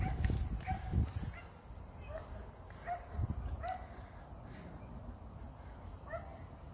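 Dogs bark and yip in short scattered bursts outdoors at a country estate, fairly distant and mixed with ambient noise, with some faint voices nearby.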